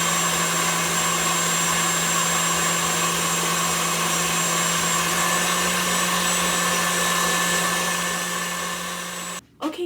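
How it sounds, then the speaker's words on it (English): An electric stand mixer whipping French buttercream for macarons, a steady loud motor whine with a constant hum that runs unbroken and then cuts off abruptly near the end, followed by a brief clatter. "Okay, I've been whipping. I just stopped the mixer for a second."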